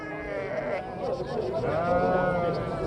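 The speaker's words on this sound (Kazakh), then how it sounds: "Солық қойлар." Sheep bleat repeatedly at a busy livestock bazaar, with overlapping calls close by over crowd murmur and people talking.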